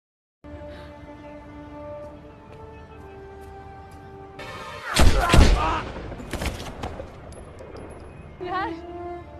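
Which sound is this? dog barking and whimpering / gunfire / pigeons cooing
gunfire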